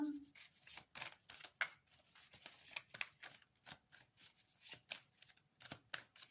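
Tarot cards being shuffled and drawn in a quiet room, a steady series of soft papery riffles and slides, close and fairly faint, with no talking.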